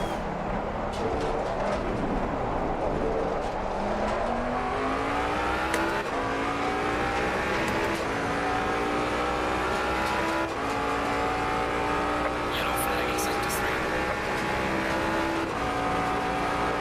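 Race cars roar through a daily online race in the Assetto Corsa Competizione sim, a Lamborghini among them: a loud, continuous engine drone climbs in pitch through gear after gear, with other cars whining close alongside the whole time.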